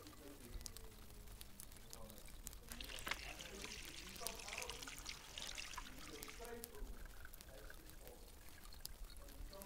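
Water pours onto a flower in a steady trickling stream, the splashy wash strongest in the middle seconds, with a voice talking softly throughout.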